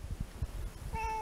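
A cat whines for food with one short, clear meow near the end, after low rumbling and handling noise outdoors.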